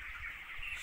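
Chickens in a large two-storey poultry farm housing about 20,000 birds, a dense, distant chorus of clucking that forms a continuous murmur for under a second, with no voices.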